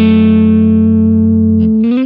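A clean electric guitar tone with no reverb added, a single loud sustained note ringing steadily, rich in overtones, then a brief change of pitch as it is released at the end.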